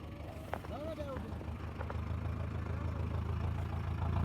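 A tractor engine runs with a low, steady rumble that grows slightly louder, while voices talk and call out over it.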